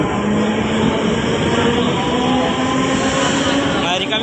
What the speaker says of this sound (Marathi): तर आता ट्रेन आलेली आहे.